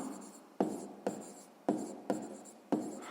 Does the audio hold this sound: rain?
no